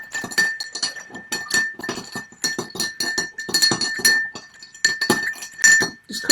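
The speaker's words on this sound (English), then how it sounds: "So add some ice. And we're going to stir this one." A spoon stirs a pear cocktail over ice in a glass, making quick, bright clinks and rattles that repeat in a busy, uneven rhythm, close and fairly loud throughout.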